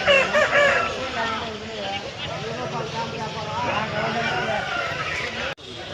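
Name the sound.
rooster at a poultry market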